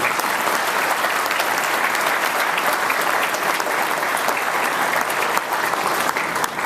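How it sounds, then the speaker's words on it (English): A banquet audience at a baseball club event gives a round of applause honoring Stan Musial, a dense, steady burst of many hands clapping at close range throughout. "Let's have a round of applause for Stan Musial."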